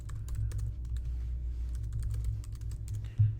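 Someone types an email address on a computer keyboard, producing a quick, irregular run of light clicking keystrokes close to the microphone, with a slightly louder thump near the end and no talking.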